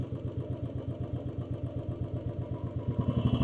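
A motorcycle engine idling after being started, a close, rhythmic low thumping putter that grows slightly louder and faster toward the end, with no speech.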